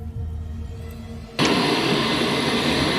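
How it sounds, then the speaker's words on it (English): A charter plane at El Paso International Airport, heard as a low aircraft hum that jumps abruptly into a loud, steady broadband jet roar partway through and holds close and strong to the end, with no talk. "you can see the charter planes. There's one there right now that's pulled in."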